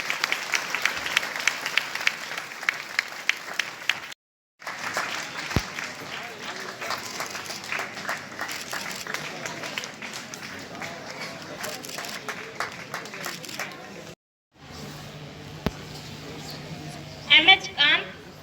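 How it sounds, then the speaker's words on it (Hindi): Audience members at a conference for the International Day of Persons with Disabilities clap, a patter of applause that runs through most of the stretch under a speaker's voice, with two brief gaps of silence. "जोरदार सर के लिए ताली बजाएं।"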